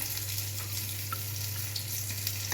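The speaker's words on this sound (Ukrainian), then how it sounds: "котлетки дожарюються" Cutlets frying in a pan, a steady soft hiss and crackle of sizzling fat, close and continuous, with a low hum underneath and no voices.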